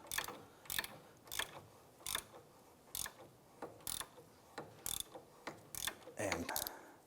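A 15mm socket ratchet loosens the nut on a sway bar link of a 2005-2007 Ford 500, giving a steady run of sharp, close clicking bursts in regular rhythm with no one talking.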